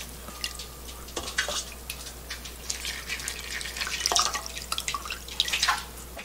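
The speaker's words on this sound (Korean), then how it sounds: "바로 찬물에 담가서 두 번만 더 헹궈서 오겠습니다" Blanched winter greens being rinsed by hand in cold water: irregular splashing, sloshing and dripping sounds in short bursts, close and fairly quiet, over a low steady hum.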